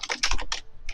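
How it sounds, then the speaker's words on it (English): Close, brisk typing on a computer keyboard: a quick run of crisp keystrokes clustered together, a short pause, then a few more taps, with no talking. "We hear typing coming from somebody."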